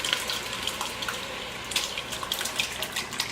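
A gallon of tomatoes and their liquid is poured into a pot, giving a steady close splashing and sloshing with faint scattered drips, without talk.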